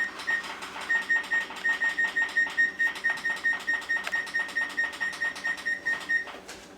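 A kitchen oven timer beeps in a steady run of short, evenly spaced electronic tones, fairly loud and close, continuing for several seconds without speech.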